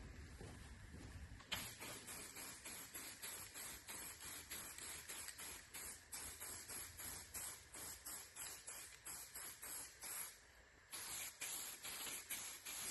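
A spray gun lays paint onto a 58-year-old 1958 Dodge crew cab in a steady, close hiss. It is broken into rhythmic pulses by passes and trigger pulls, with a short gap near the end.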